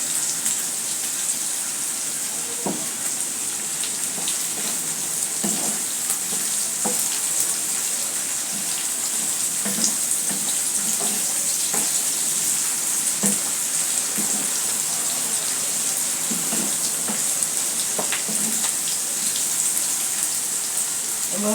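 Onions, chilies and garlic fry in hot oil for a taro-stem stir-fry, giving a steady close sizzle with scattered pops and the clicks of stirring throughout.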